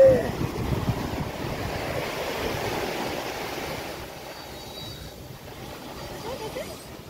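Sea waves wash in at Malvan beach, a broad rushing surf that swells at the start and then recedes to a softer wash, with wind buffeting the microphone and voices nearby.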